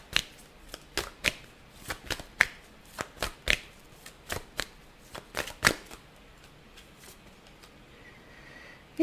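Tarot cards being shuffled by hand: a run of crisp riffling snaps, irregular and close, about a dozen bursts over several seconds before trailing off into quiet, with no talking.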